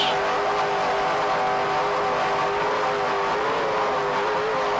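Twin 575 horsepower JPS engines on a racing powerboat at the 1994 Key West world race, a sustained droning roar with a steady tonal whine, constant and fairly distant.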